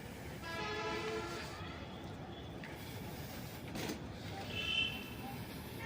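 The Sealdah Express arrives at Nagina railway station: a horn sounds over the rumble and rattle of passing coaches, close and fairly loud, with a second horn blast later.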